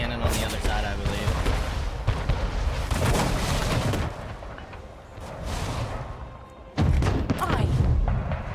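Ship cannons fire in a naval battle in the video game Anno 1800, a string of deep booms and thuds over rumbling battle noise, with a loud burst near the end and a voice talking throughout.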